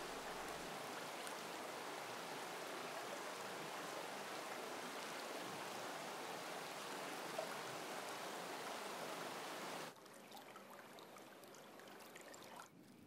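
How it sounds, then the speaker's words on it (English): Rainwater runs along streams toward a main river after heavy August rain: a steady, dense rush and trickle of flowing water that continues unbroken for the whole stretch and grows slightly softer near the end. "The rainwater flows along the streams to join the main river."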